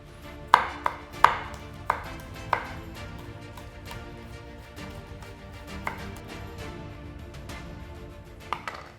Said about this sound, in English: we're just going to finely slice the spring onions